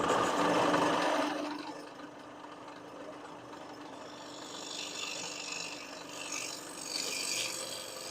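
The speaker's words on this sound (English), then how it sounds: "now my bowl scraper will come into play" A bowl scraper shaves a spinning wooden bowl on a lathe, giving a soft, continuous raspy scraping over the lathe's low hum. It starts louder, then settles into quieter, uneven rubbing.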